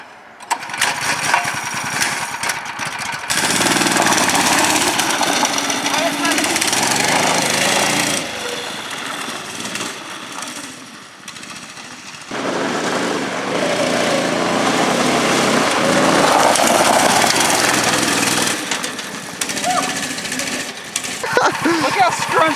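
A Predator 212 go-kart engine warms up and runs, a loud steady buzzing drone that drops off briefly and then returns, close by with no talk.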